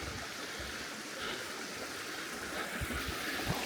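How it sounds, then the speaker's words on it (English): Munising Falls in Michigan pours down a cliff, a steady broadband rush of falling water that stays close and even throughout, with no voices over it. "I could see the waterfall coming around this corner"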